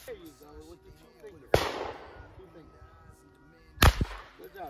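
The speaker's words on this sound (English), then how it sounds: "let's shoot some more." Two sharp gunshots crack out during target shooting, each loud and followed by a short decaying tail, with people talking between the shots.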